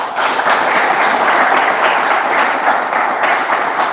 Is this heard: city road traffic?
no